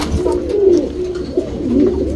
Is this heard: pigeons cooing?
yes